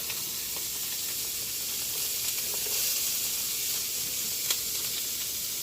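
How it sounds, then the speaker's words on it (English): Onions and garlic sauté in a hot pan with a steady, even sizzle and faint hiss throughout, close up and with no talking. "Now, it's time to saute our onions and our garlic."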